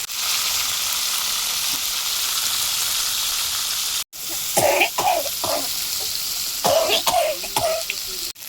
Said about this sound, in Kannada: ಒಣಮೆಣಸಿನ್ಕಾಯಿನೂ ಸಪ್ರೇಟಾಗಿ ಎಣ್ಣೆ ಹಾಕಿ ಹುರ್ಕೊಬೇಕು